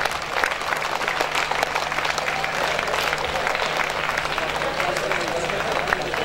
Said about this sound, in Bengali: সবাই দাঁড়িয়ে সম্মাননা হাততালির মাধ্যমে সম্মাননা প্রদান করছি